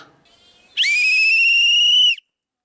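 A single loud, sustained whistle blast signalling pigeon feeding time rings out for over a second, clear and close, preceded by faint background noise and followed by silence.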